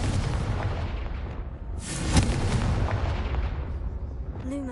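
A Confringo blasting spell exploding in Hogwarts Legacy, a loud near boom with a crackling burst that rumbles on afterwards, set over steady game ambience.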